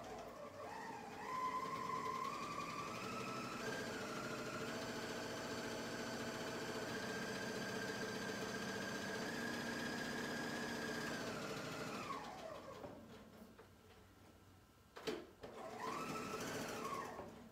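Bernina sewing machine chaining off past a fabric edge, a steady loud motor whir with needle rhythm running for about twelve seconds, then slowing to a stop, followed by a brief clunk and a short restart.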